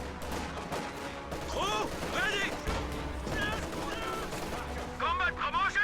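In a World War II strategy video game, a pack howitzer and small-arms fire sound as bursts of booms and rattling shots under steady talk and game voice lines.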